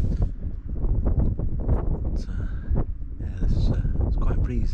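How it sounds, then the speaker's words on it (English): Breezy wind buffets the microphone on a hilltop at dawn on Shining Tor in the Peak District, a loud, continuous rumble with shifting gusts and some faint rustling. "It's quite breezy."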